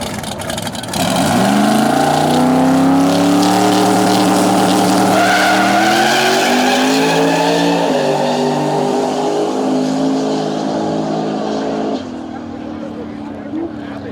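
A 2JZ-powered Datsun drag car with a big turbo revs hard at a drag strip, a loud sustained engine roar climbing in pitch for about ten seconds before easing off, with an announcer talking over it.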